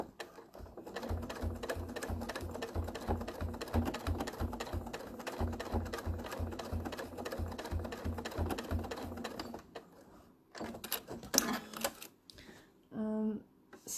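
Sewing machine stitching free motion embroidery with Wonderfil metallic thread, a steady rapid needle chatter running for about ten seconds before stopping, followed by a few brief clicks and quiet voices.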